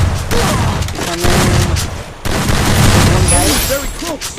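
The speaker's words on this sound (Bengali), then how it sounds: "দারুণ মুভমেন্ট স্পিডের সঙ্গে একটা দারুণ হেডশট মারলো।" Gunfire from the video game Free Fire during a 3-versus-3 custom match, with dense, rapid shots and booms that run almost continuously under an excited commentator's voice.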